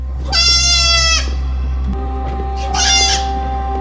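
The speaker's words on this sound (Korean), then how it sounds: "아기 염소들이 가득한 작은 방으로 들어가게 되고" Baby goats crammed into a small room bleat in two loud, high, wavering cries separated by a pause, over a steady low hum.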